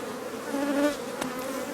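Honeybee cleaner workers buzz inside hive cells, a close, continuous hum with a brief rise in pitch partway through and a small tap near the end.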